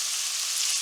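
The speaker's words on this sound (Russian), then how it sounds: "у меня тут мясо и лук жарятся в моей любимой тяжелой сковороде" Meat and onion fry in a heavy, deep pan being readied for pilaf, giving a steady bright hiss of sizzling fat, close and even throughout.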